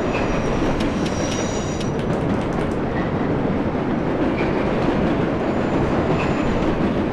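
Subway train in World of Subways running at full speed through a tunnel: a loud, steady rumbling roar with faint rhythmic wheel clicks and occasional high squeals, continuous and close throughout.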